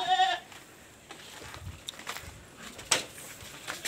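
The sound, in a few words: goats bleating while being fed on a farm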